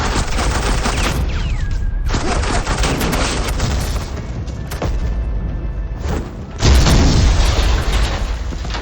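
Sustained gunfire and explosive booms fill a Batman video game battle, loud and dense with bursts of fusillade broken by brief gaps, no voices.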